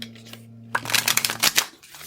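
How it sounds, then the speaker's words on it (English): Tarot cards are shuffled by hand in a quick run of crisp riffling bursts that start after a short quiet pause and carry on for over a second, close and fairly loud, over a low steady hum. "one more shuffle for good luck"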